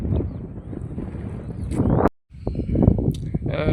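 Strong gusts of wind over farm fields buffet the microphone in rumbling bursts, briefly cutting out before the blustery roar returns.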